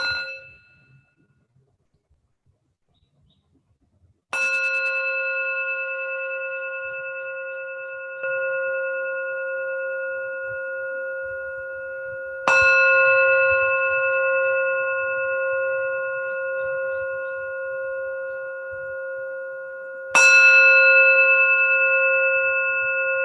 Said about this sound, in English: So I will invite 3 sounds of the bell